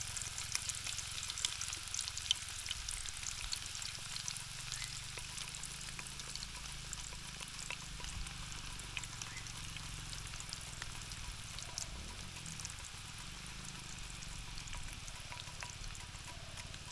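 Banana slices frying in hot oil for homemade banana chips, a steady dense sizzle that runs unbroken throughout with a brief stirring swish midway, close and fairly loud.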